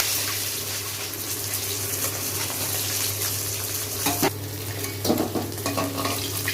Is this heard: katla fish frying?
yes